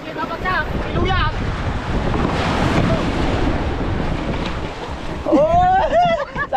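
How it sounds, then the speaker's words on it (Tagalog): Big ocean waves surge and crash in a loud, continuous roar, heard from a small boat riding rough seas with heavy wind buffeting the microphone. Excited voices shout over the surf. "Oh, laki ng alon!"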